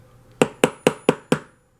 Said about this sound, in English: we're going to use the tack remover, which has a little groove there, and a hammer